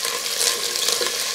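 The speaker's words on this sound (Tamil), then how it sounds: "இப்போ கொஞ்சம் நல்லா வணக்கலாங்க" Shallots, dried red chillies and curry leaves sautéing in a pan for a veliparuthi thuvaiyal, a steady close-up sizzle with soft stirring scrapes and crackles, no talking.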